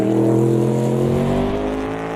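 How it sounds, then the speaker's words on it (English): Race car engines in a sim racing game of a road course at Road Atlanta roar loudly and continuously with a steady droning tone that slowly shifts in pitch, with no talk over it. "God, I love the sound of these cars, folks."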